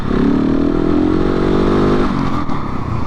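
A KTM 690 SMC R motorcycle engine revs loud and close during a wheelie, its pitch climbing steadily and then easing off near the end.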